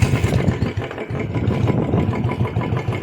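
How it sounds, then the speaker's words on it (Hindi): A Royal Enfield Bullet motorcycle engine chugs with a steady low thumping beat, idling close by after starting, loud and rhythmic throughout. "फर्स्ट ऑफ ऑल अपनी बुलेट को हम स्टार्ट कर लेते हैं"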